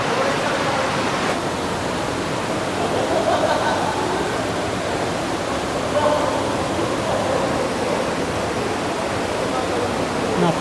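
A clear, spring-fed river in Tanay, Rizal, where people bathe, rushes in a steady broadband wash of flowing water that stays even and fairly loud throughout, with no talk over it.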